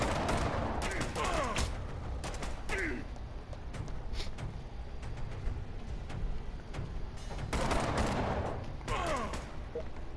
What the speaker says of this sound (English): They are taking some shots at us and our health is going down.